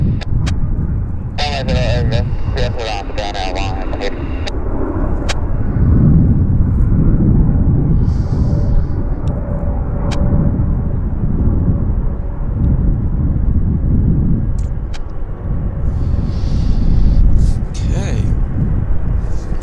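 A jet airliner lands on runway 08 left at Vancouver International Airport, heard from a plane-spotting spot by a hotel as a steady, broad engine roar and rumble that swells toward the end, with faint voices in the background.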